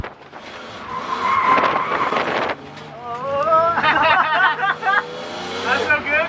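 Tires on a BMW E36 drift car squeal in long wavering screeches over engine noise, close and loud, with a brief lull between two drift passes; a voice talks over part of it.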